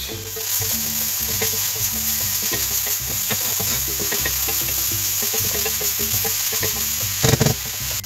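Ratatouille vegetables with courgettes and a little salt stirred in a pan, a continuous close sizzle with soft scraping and clattering as the spoon moves, a short louder knock near the end, no talking.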